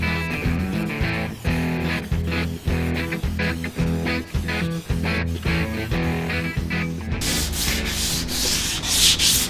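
Primer being wet sanded by hand on the bumper of a BMW E34, heard as steady, rhythmic rubbing strokes that run throughout beneath prominent background music.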